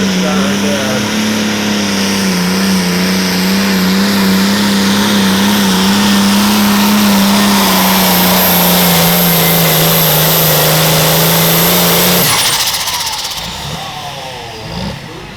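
A John Deere tractor at a tractor pull in Mondovi, Wisconsin holds a loud, steady high-rpm roar with slight wavering for about twelve seconds before shutting down abruptly, leaving quieter crowd ambience.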